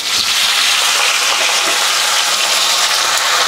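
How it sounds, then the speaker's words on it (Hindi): Cauliflower frying in a pan with Kashmiri red chili powder and turmeric over a medium flame, a loud, dense, continuous sizzle close by with no talking. "गैस का फ्लेम हम मीडियम करके गोभी को फ्राई करेंगे 3-4 मिनट के लिए"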